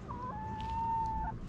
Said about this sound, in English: So this chicken has a piece of the fish and the other chicken wants it.